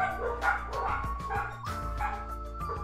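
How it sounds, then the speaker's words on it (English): Several dogs bark and yip in quick, uneven bursts over about three seconds in Danganronpa 2: Goodbye Despair, a PC game, with a steady game music bed running underneath. "And there go my dogs."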